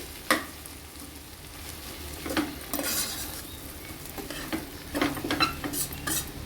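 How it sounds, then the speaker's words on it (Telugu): Cluster beans fried in a pan, stirred with a utensil to coat the pieces in salt, chilli and turmeric: a soft steady sizzle under several scraping, clinking stirs, fairly close, with no voices. "ఇప్పుడు ఇదంతా కలిసేలాగా ఒకసారి తిప్పేసుకోవాలి"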